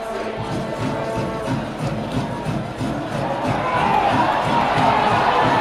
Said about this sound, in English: Crowd are on their feet making a load of noise.